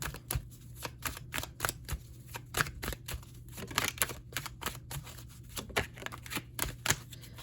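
Tarot cards being shuffled and flipped, a steady run of quick crisp riffling snaps with a soft low hum underneath, close and fairly quiet, with no talking.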